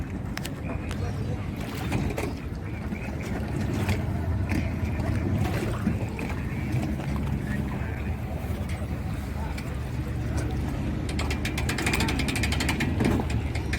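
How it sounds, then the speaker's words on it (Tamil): Boat pulling in to dock at the Shuwaikh public boat ramp in Kuwait, a steady low engine rumble with wind and water noise throughout, with people talking nearby over it. "பக்கத்துலேயே பார்த்திங்கன்னா ஒரு போட் அழகாக உள்ளே வந்து அட்டாச் பண்ணிட்டுருக்காங்க"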